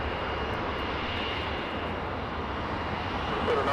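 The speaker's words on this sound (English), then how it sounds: "There you go, you can see the silhouette of the Gulfstream now." A Gulfstream business jet rolls for takeoff at Los Angeles International Airport, a broad steady engine roar that stays loud and even throughout, heard from a distance with no talk.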